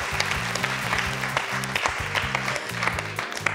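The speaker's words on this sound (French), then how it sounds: "Applaudissements du public quand même" Studio audience applause on a French TV quiz show, a dense steady wash of clapping with music playing underneath throughout.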